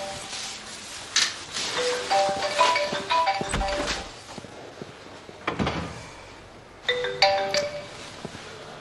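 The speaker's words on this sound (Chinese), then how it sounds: "小北，肯定是有什么重要的事找你，赶紧接吧" A mobile phone ringtone plays in an indoor drama scene, a bright melodic phrase that repeats with brief pauses and a couple of thumps between, with no talking.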